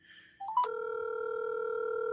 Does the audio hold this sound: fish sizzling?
no